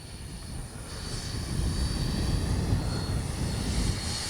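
A Freewing 90mm T-45 Goshawk RC jet makes a low pass with its gear down, giving a steady, fairly loud rushing whine that swells slightly as it nears and holds.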